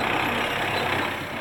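A tractor working a field during fertilizing and soil cultivation, its engine a steady, loud, continuous drone with broadband rumble throughout, no voices.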